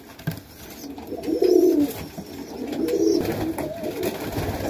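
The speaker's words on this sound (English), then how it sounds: "White pigeon." Highflyer pigeons coo steadily inside a loft, their soft low coos rising and falling in repeated phrases, close and moderately loud, with faint rustling and no talking.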